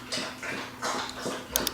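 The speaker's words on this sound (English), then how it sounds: "My dog has decided to be very, very loud." A dog whimpers and whines in short bursts from somewhere nearby, fairly quiet, with gaps between the cries and a brief sharper sound at the end.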